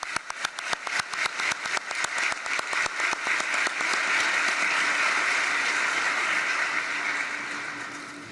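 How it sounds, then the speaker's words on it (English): Applause at a climate summit of small island states, starting as scattered individual claps that quickly swell into a dense, loud, sustained ovation before slowly fading. "Let's applaud the people of these territories."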